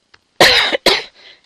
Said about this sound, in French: maintenant je tousse